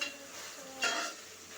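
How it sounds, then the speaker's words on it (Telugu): Ginger garlic paste frying in a pan, a steady soft sizzle with a brief brighter burst of stirring partway through, close and alone. "అది కాస్త అల్లం వెల్లుల్లి పేస్ట్ కొంచెం ఫ్రై అయ్యాక"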